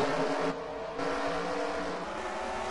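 NASCAR Camping World Truck Series trucks race at Bristol during the 2015 UNOH 200, a continuous loud roar of several engines at full throttle with no talking.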